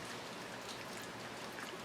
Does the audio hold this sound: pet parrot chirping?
no